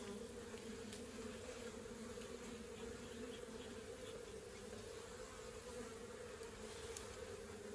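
A swarm of bees flies out of a small winter mini nuc hive box, a steady close buzzing drone that holds evenly throughout with no pauses.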